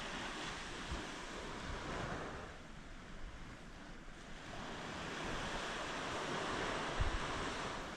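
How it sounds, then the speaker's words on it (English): Sea waves and wind on Herm, a small car-free island in the Channel Islands, form a continuous roar of surf with gusty wind buffeting the microphone, rising and falling slightly throughout. "There are no cars on the island, so there's no traffic, no background noise, just the wind, the sea,"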